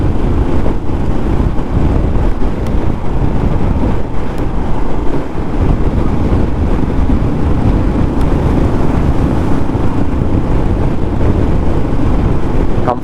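A Royal Enfield Classic 350 motorcycle rides at about 75, its low engine rumble mostly buried under heavy, constant wind buffeting on the microphone.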